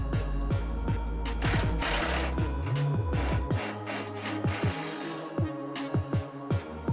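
A ratchet on a swivel socket loosening a bottom fender bolt on a Ford Fiesta, giving fast, close, rhythmic clicking bursts with short pauses between them.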